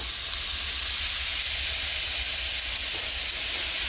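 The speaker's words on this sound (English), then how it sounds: "I'm going to go ahead and add all of our peppers and onions to the pot, jalapenos as well" Peppers, onions and jalapenos hit hot olive oil in a pot and sizzle loudly, a steady, dense hiss that holds evenly throughout without any voices.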